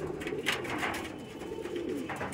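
Madrasi pigeons coo close by in a low, continuous throaty murmur over steady background noise, with no one speaking.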